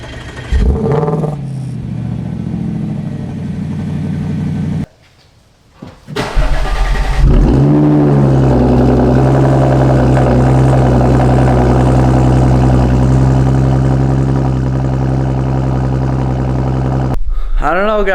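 An Audi S5 and RS5 fitted with aftermarket exhausts, one an AWE system, start up and rev, a burst of engine noise, a brief pause, then a loud sustained deep idle and revving drone.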